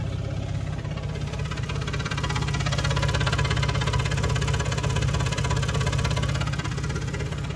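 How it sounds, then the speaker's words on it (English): A 1994 S10 Blazer with a 4.3 engine and true dual exhaust with cherry bombs idling, its timing chain knocking against the cover, a close, loud, steady rhythmic rattle over a throbbing low idle. "Sounds like the timing chain's banging against the timing cover"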